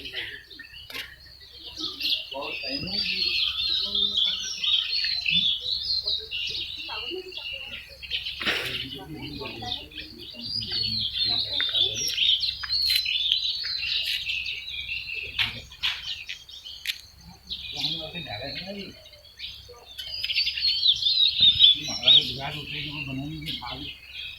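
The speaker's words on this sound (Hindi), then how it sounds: "यहाँ पे भी एक चिड़िया बैठी है, इसको बोलते हैं घिनौड़।" Small birds, sparrows among them, chirp and twitter continuously in the Kumaon hills at sunrise, with dense high calls near and far and occasional quiet human speech and rustling beneath.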